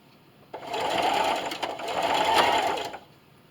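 A sewing machine runs a straight stitch at length 2.5 with a zipper foot, back stitching along a zipper on a Halloween treat bag. It gives a close, steady whir for about two seconds with a brief dip midway.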